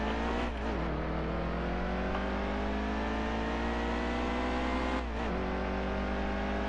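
Race car engines in the NASCAR Heat 2 game at the Daytona 500, a loud sustained high-pitched engine drone with steady whine, briefly dipping and resurging twice as if shifting gears.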